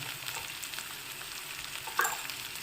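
Ground turmeric being stirred into hot oil in a pan while cooking a fenugreek leaf (methi) bhaji, giving a steady soft sizzle with light scraping and one brief sharper clink near the end.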